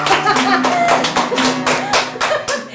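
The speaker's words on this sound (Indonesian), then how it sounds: "kita tepuk tangan buat sekdesnya kali ini ya." A small group claps in an uneven patter of sharp hand claps over a low hum, with a voice murmuring faintly beneath.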